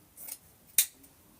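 Two crisp scissor snips trimming long pieces down to size, one brief cut followed by a sharper, louder snip, close and alone in a quiet room.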